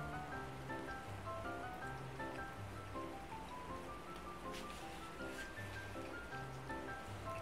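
A waterfall on the Shoreline map in Escape from Tarkov rushes as a steady, even hiss of falling water, with a soft melodic tone pattern playing over it and no speech.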